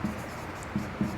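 A pen or chalk writing during a maths lesson on linear equations makes short scratchy strokes in brief bursts, close and fairly quiet, with no talking over it.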